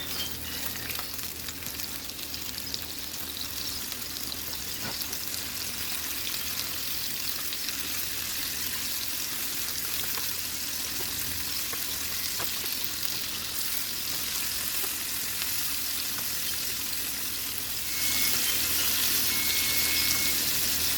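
Shrimp fried rice sizzling in vegetable oil in a pan, a continuous close frying hiss with occasional stirring scrapes, steady throughout and growing slightly louder near the end.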